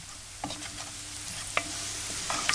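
Dried chili flakes and spices fry in a pan before bulgur wheat goes in, giving a steady close sizzle with a few sharp stirring scrapes and clicks, no voices.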